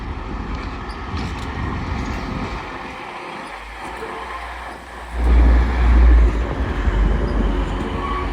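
A Class 185 train bound for Liverpool passes at Doncaster station, with a rumbling approach that swells into a loud, deep low-end roar as the units go by close to the listener.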